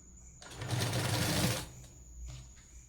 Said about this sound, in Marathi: इकडे बी अशाच पद्धतीने अर्ध्यातून आपल्याला शिलाई टाकायची